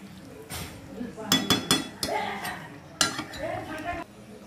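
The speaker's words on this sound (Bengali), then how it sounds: "এবার ভালো করে নাড়াচাড়া করে নিলাম।" A spoon clinks and scrapes against a pot while poppy seed paste for potol posto is stirred, with sharp metallic taps in short bursts and quieter scraping between them, close and moderately loud.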